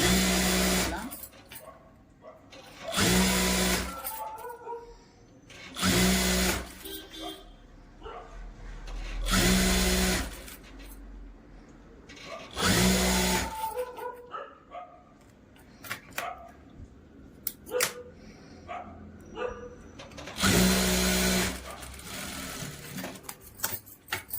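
A domestic sewing machine hems a blouse in short whirring bursts of a few seconds each, separated by pauses while someone talks about the work between runs.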